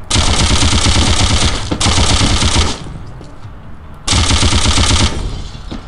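Rapid automatic gunshots from the video game Postal 2 rattle loud and close in two long sustained bursts, separated by a short quieter gap, with no talking.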